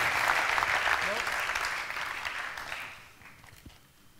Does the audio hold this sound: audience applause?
yes